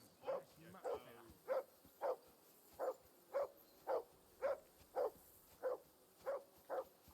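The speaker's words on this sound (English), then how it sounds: "I assume you can hear that damn dog of yours barking" A dog barks steadily at a distance, about a dozen evenly spaced single barks, faint under a quiet background.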